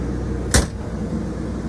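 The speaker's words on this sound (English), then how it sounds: "You can slam the door" A car door slams shut once with a single sharp, loud thud over a steady low background hum.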